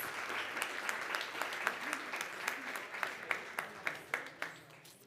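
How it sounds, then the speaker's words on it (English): An audience at an annual assembly's opening ceremony and civil society award presentation breaks into applause, a dense wash of clapping with a few sharper individual claps standing out as it fades. "Yes, give him another round of applause."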